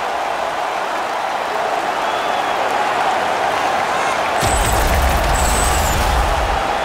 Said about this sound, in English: this crowd on fire now here in the arena